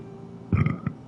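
A man burps twice in quick succession, a longer throaty belch followed by a short second one, close and loud over a faint steady background hum.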